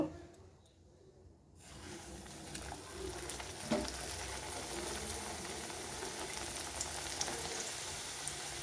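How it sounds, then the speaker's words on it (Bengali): Fish kachori frying in hot oil in a wok, a steady, close, broadband sizzle running continuously after a brief quieter start, with a few soft pops and bubbles. "এভাবে আমি দু পিঠ ভালোভাবে ভেজে নিয়ে তুলে নেব"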